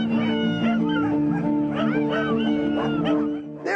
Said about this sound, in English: there are a few canines barking in the crowd.